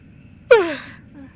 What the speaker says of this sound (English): that was actually a yawn